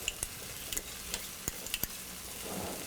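Onion, ginger, garlic and curry leaves sautéing in a pan for duck mappas, a soft continuous sizzle punctuated by a few light ticks of a stirring spoon, no talk.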